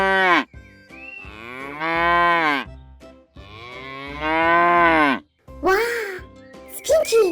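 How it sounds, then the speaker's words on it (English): Cows moo in several long, loud, drawn-out calls with rising and falling pitch, close to the listener, with brief pauses between them and a shorter, higher call at the end. "here's the sound cows make"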